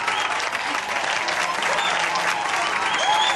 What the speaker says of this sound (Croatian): Poslušajte sve te uzvike i taj pljesak.